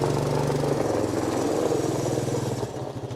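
A 1984 Honda ATC200ES Big Red three-wheeler pulling in third gear from a standstill, its engine a loud, close, steady low drone that thins and tapers toward the end.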